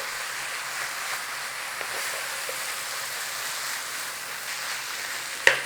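Tomato paste cooking in a pan for a pide filling, a soft steady sizzle with faint crackles and a sharp utensil knock near the end.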